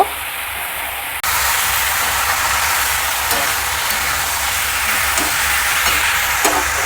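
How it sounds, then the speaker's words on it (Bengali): Garlic paste fries in a pan for a soya chili dish, giving a loud, even sizzle that begins sharply after a second and holds steady, broken only by a few faint stirring clicks. "পরিমাণ মতো রসুন পেস্ট, এটাকেও আমি এর সঙ্গে ভেজে নেব।"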